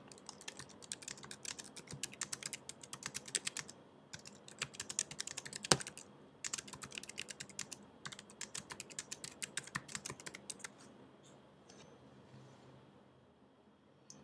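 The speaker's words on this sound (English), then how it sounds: "To enter text in the text box, click inside it and type." Steady bursts of clicking keystrokes on a computer keyboard while text is entered into a text box in Pages '09, fairly close and clear, tapering off near the end, with no voices.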